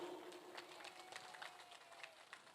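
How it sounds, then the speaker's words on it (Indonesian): Audience clapping at a community event in a village hall, with dense, steady clapping heard at moderate distance through the whole moment and no voices over it. "Beri tepuk tangan dong Bapak-Bapak Ibu-Ibu."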